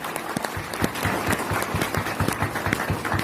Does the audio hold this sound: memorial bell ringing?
no